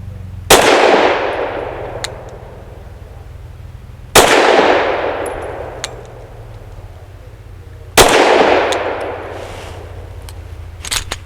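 An Avidity Arms PD10 pistol fires Liberty Civil Defense 50 grain +P ammunition, three loud, sharp shots spaced about four seconds apart, each ringing out in a long echoing decay.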